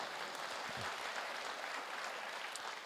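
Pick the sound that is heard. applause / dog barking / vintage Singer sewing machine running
applause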